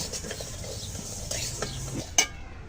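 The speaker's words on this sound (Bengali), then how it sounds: "আমি ডালগুলো কিন্তু ধীরে ধীরে আস্তে আস্তে মানে অল্প আঁচে রেখে ভাজতে থাকবো" Moong dal is stirred and fried on a low flame, with soft scraping of a spoon in the pan and one sharp metallic clink near the end.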